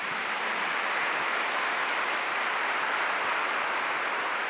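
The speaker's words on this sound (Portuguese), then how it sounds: "Vamos aplaudir a palavra de Deus." A church congregation claps together in sustained, dense applause that stays steady and even for several seconds, heard from within the room with no talking.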